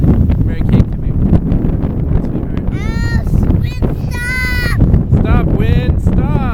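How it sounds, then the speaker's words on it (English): Strong gusty wind at a beach buffets the microphone with a constant low rumble, while children's high voices cry and call out over it throughout. "Why is the wind blowing on me?"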